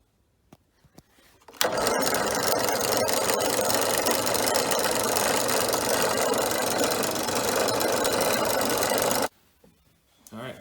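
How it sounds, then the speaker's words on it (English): A power drill bores an inch-wide hole into wood for an epoxy cup turner, a loud, steady, rattling whir lasting several seconds, then stopping abruptly. "Inch wide hole drill. I'm just going to take it down."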